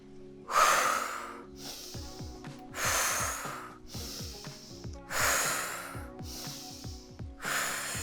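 Active breathwork with deliberate inhales through the nose and exhales through the mouth, heard as several loud, close breath cycles in a steady rhythm, each sharp sniffing inhale followed by a long airy exhale, with no talking.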